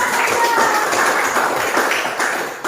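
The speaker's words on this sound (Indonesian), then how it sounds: "Tepuk tangan." Students in a classroom clap in a quick, fairly even rhythm, a busy patter of many hands close by with a slight pulsing beat and no talk over it.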